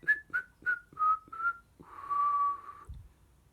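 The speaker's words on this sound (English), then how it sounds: "The farmer's wife made her way slowly across the barn, whistling to herself." A woman whistles a short tune close by: five quick notes followed by one long held tone, clear and alone.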